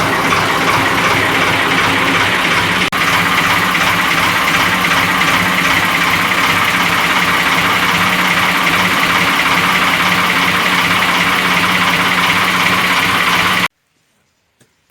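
A car engine idling steadily while being parked in a village, a loud continuous low rumble with vibration that runs unbroken before cutting to silence near the end.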